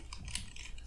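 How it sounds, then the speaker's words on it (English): A few quick, soft keystrokes on a computer keyboard, close and faint against a low steady hum. "at the top I want you to type in"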